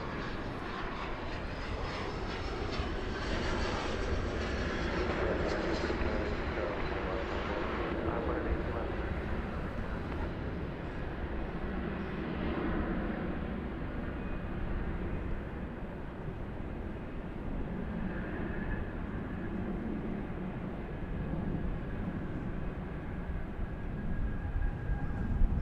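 Embraer 175 airliner landing at DFW Airport after a flight from Minneapolis St. Paul, a loud broad jet engine roar that gradually softens and lowers, with faint talk in the background.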